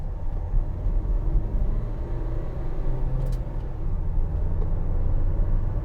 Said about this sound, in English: Bit of lazy gear changing then.